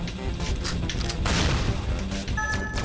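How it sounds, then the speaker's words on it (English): Pulse laser weapons fire in the space combat game World Destroyers, a dense run of bursty blasts and booms stacking over one another in quick succession, loud and without talk. "See the laser, it's called a laser"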